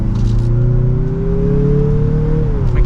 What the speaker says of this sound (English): we give it a slight acceleration. Very peppy for this turbo engine.